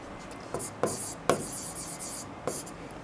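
Pen scratching on paper as math figures are written out, several quick firm strokes with short pauses between them, close and clear with no talk over them.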